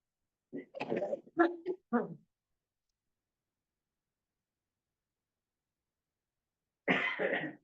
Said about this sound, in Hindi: सॉरी, खांसी आ गया।